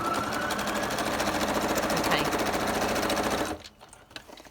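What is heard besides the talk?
sewing machine stitching burlap pocket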